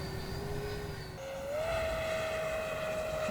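A Freewing F9F Panther 70mm EDF model jet flies overhead in a steep banked turn, its ducted-fan whine steady and moderately distant, rising in pitch partway through.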